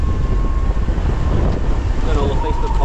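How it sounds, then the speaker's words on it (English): Strong wind gusts at sea buffet the microphone on a boat offshore in a continuous low roar, with gusty rumbling and faint engine or water noise beneath. "Big gusts coming down from this bit."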